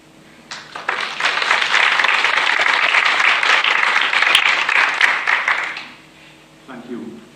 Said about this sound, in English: So big applause to Pentti.